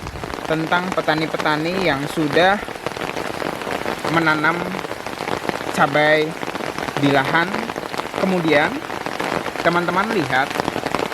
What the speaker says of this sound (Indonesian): Ini di sini sudah mulai hujan deras lagi teman-teman.